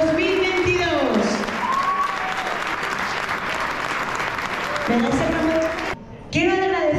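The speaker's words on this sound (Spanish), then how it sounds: "un fuerte aplauso para Zaira Torralba, reina de las fiestas de Chillarón" A crowd applauds the queen of the Chillarón village festival, sustained dense clapping that fills the space, with a loudspeaker voice talking over it at the start and end.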